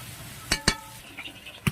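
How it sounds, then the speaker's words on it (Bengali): Onions fry in a pan with salt and turmeric, a faint steady sizzle under a few sharp spatula clinks and stirring scrapes. "এবার এটাকে আমি ভালো করে ভেজে নেব ব্রাউন কালার হওয়া পর্যন্ত"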